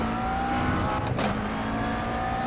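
A steady, loud McLaren GT3 race car engine in the iRacing video game drones at high revs, with a brief shift in pitch midway, like a quick gear change.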